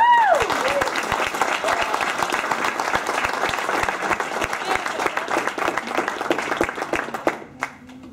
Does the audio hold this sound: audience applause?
yes